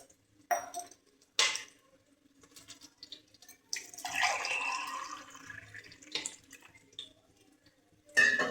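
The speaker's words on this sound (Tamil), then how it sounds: "இப்போ தண்ணி ஊற்றிக்கலாம்." Water poured from a tumbler over soaked rice and split moong lentils in a pot for ven pongal: short splashing pours with drips between, one longer steady pour in the middle, close and fairly quiet.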